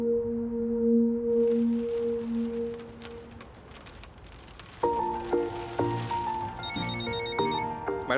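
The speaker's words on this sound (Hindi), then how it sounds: "मैडम, निक्सर का फोन आ रहा है।" A telephone rings in an indoor drama scene, first a steady two-tone electronic ring, then a brighter repeating melodic ringtone with layered chiming notes that carries on to the end.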